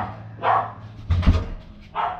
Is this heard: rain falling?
no